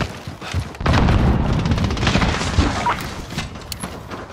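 Cluster strike explosions boom in the Call of Duty Modern Warfare Shoot House team deathmatch. A dense, continuous barrage of blasts and gunfire comes loud and rolling, thinning out toward the end.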